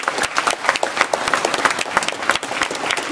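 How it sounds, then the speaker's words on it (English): Audience applause at the Foxcroft Academy flag ceremony for Ms. Hutchinson, a dense steady clapping from a crowd filling the hall, fairly close and sustained without pause throughout. "Let's give Ms. Hutchinson a round of applause."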